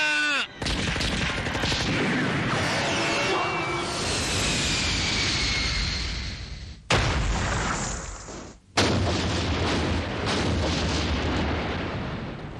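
Weapon fire in an Ultraman Gaia episode comes as loud booming blasts with roaring, whooshing aircraft-like engine noise, broken by two short silent gaps, in a dense, continuous battle mix.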